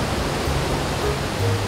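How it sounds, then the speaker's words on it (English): A waterfall in rural Kyushu, Japan, heard as a steady, loud, broadband roar of falling water with no breaks and no voices. "the waterfall"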